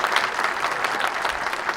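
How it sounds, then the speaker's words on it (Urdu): An audience at a ceremony applauds steadily, a dense and even wash of many hands clapping, fairly close and without talk. "بھرپور تالیاں لگائیں، بھرپور تالیاں."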